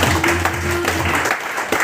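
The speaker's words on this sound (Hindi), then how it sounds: "ये सब महान लीडर के लिए जोरदार ताली।" An audience at a DXN opportunity meeting claps steadily, a dense patter of applause at moderate loudness that continues throughout.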